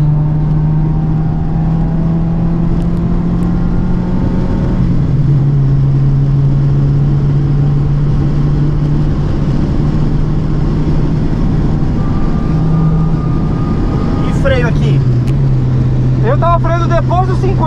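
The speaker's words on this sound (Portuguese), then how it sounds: "Vai acelerando, duas mãos no volante." A car's engine drones steadily as the driver accelerates during a driving lesson, a sustained mid-pitched hum that shifts in pitch as gears change, with occasional bright squeaks near the end.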